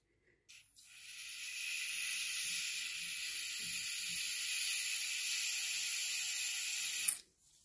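Butane from a can being forced into the refill nozzle of a torch lighter makes a steady, close hiss that begins abruptly, holds for about six and a half seconds, then cuts off sharply.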